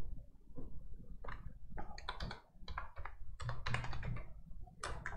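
Close, busy keystrokes clatter on a computer keyboard in quick uneven bursts with short pauses, with no voices over the typing.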